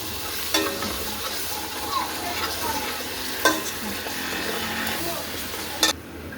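Tomato paste being stirred into frying onion in a pot, a steady sizzle with a few sharp scrapes of the spoon spaced through it, close and moderately loud, no talking.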